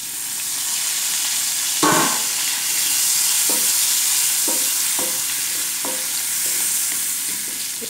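Curry leaves fry in hot oil with dried chilli and asafoetida, making a constant bright sizzle broken by a sharp burst near the start and then repeated scraping strokes of a spoon stirring the pan.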